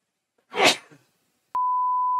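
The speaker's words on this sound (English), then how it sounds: "gee, I'm about to sneeze" A single sneeze bursts out close by, a sharp breathy blast that fades within half a second, followed by silence and then a steady electronic beep tone.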